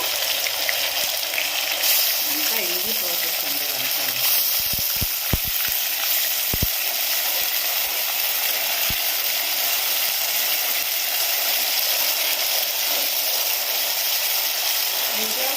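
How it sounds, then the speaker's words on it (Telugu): Onion paste with mustard seeds frying in oil for a fish curry, a loud continuous sizzle and hiss with a few sharp clicks of stirring against the pan in the first half. "చూసారా చక్కగా ఉల్లి ముద్ద వేగించింది"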